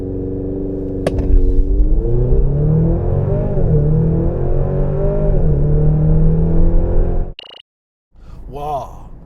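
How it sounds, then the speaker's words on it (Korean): A 2023 Maserati Grecale GT accelerates hard, its engine note loud and rising steadily for several seconds before cutting off abruptly, followed by a brief gap and a renewed surge. "그러면 가속 성능 한번 볼까요?"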